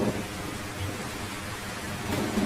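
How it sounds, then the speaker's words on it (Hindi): Steady heavy rain hisses through a cartoon thunderstorm with a low rumble of thunder beneath, continuous and dense with no voices. "इधर तेज तूफान और बारिश की वजह से भूरे और रीमा का भी घर टूट गया था।"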